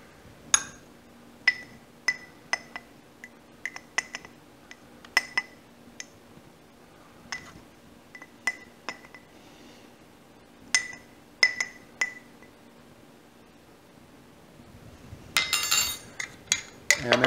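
Metal tablespoons clink sharply against a glass jar while black pepper and turmeric powder are measured out, a series of bright, separate taps spaced irregularly and close by, with rustling and clattering at the end.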